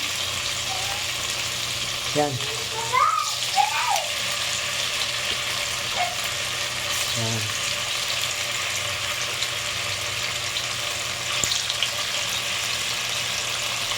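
Tofu frying in hot oil in a home kitchen, a constant loud sizzle running throughout, while people speak briefly over it.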